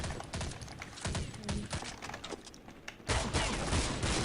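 Gunfire in the video game Counter-Strike Online, dense rapid shots crackling in continuous bursts with a brief lull and then a loud renewed volley, while players talk over it.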